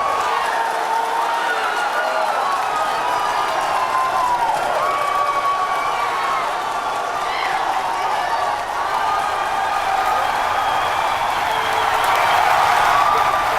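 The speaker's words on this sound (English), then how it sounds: "if you can hear me over the cheering" A large crowd cheers and applauds during the Falcon Heavy test flight launch, a sustained roar of clapping, shouts and whistles that stays loud and even throughout.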